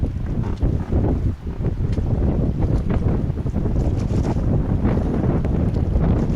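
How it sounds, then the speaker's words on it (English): Steady wind buffets the microphone with rough, gusty rumbling, alongside faint water sounds from a raft on the Yellowstone River. "Got a little wind here, a little breeze behind my back."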